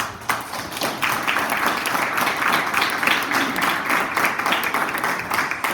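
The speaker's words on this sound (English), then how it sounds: "just one more round of applause for all of work" Audience applause at a panel event on Vision Zero road safety in New York, a steady, moderately loud round of many hands clapping that holds evenly throughout.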